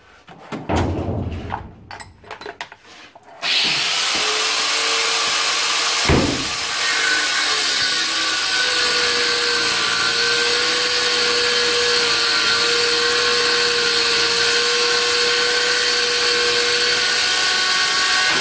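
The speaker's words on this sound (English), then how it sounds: "So it's going to be new U-bolts all round, which means I can cut them off." A power tool cuts through bent steel U-bolts on a boat trailer chassis, a loud steady whine running continuously for about fifteen seconds after a few brief knocks and scrapes at the start, with no talking.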